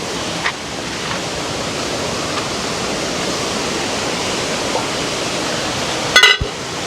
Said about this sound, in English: So the river is there and we're here. You know, the river is there, and as you can hear the sound